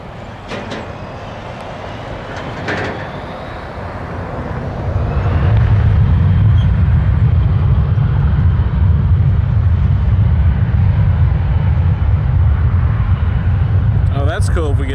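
A jet airliner rolls and climbs away on takeoff at Toronto Pearson airport, a rising engine roar that swells after a few seconds and then holds loud and steady, with faint talk at the start.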